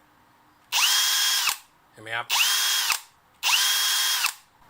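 An IMAX Brushless 20V cordless drill in plain drill mode whirs in three loud, close bursts of about a second each, with its motor pitch rising and falling, and someone speaks briefly between the first two runs.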